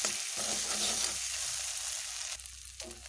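Spiced taro (kochur mukhi) sautéing in oil in a pan, a dense, loud sizzle with brief stirring scrapes toward the end.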